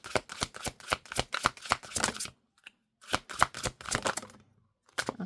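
Tarot cards are shuffled in two quick riffling bursts of rapid, crisp slaps and flutters, separated by a short pause and ending with a final tap, close and distinct with no talking.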